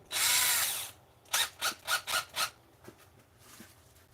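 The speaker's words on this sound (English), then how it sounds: "And we'll pre-drill these." A power drill with a very small bit pre-drills holes, starting with one sustained whir, then several short rapid bursts, and fading into faint clicks and handling noise nearby.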